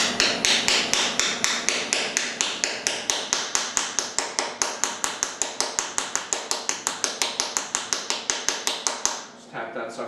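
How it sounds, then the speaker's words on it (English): A small brass hammer taps a part onto a Harbor Freight 9x20 gear head lathe in a fast, even series of sharp knocks, dozens of blows in steady rhythm, close up, ending with a brief pause. "I have a little brass hammer here"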